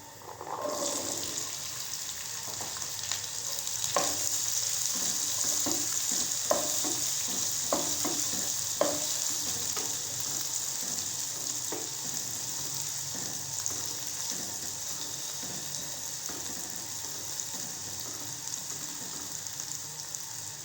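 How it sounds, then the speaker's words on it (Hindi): Continuous sizzling of boiled white chickpeas frying in a pan, with a spoon scraping and stirring now and then, steady and close throughout. "चने को भूनते हुए 2 मिनट हो चुके हैं।"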